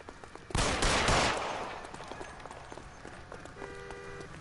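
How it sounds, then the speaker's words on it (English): In the video game L.A. Noire, a single loud burst of gunfire rings out briefly near the start, then fades into quieter footsteps and scattered faint knocks. "Sabo, stop or I will shoot!"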